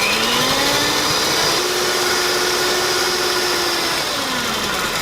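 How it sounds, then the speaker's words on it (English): An electric mixer beats eggs with vanilla extract on high speed for a dessert, a loud, continuous whirring hum that holds steady and alone, its pitch sliding slightly as the beaters work. "We're gonna go ahead and start beating these on high until they're a little bit fluffy."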